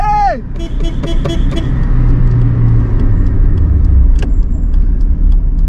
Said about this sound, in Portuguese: O carro pegou, você acredita?